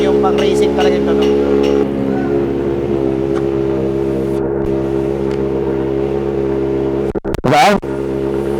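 Kawasaki ZX-4RR sport bike with a titanium exhaust running close up, a loud continuous engine drone with sharp revs toward the end.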